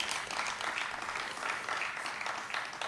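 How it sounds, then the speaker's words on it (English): Assembled audience at a UACE 2024 examination results release applauds the national examinations board, a steady, moderately distant patter of many hands clapping throughout. "Clap for UNEB,"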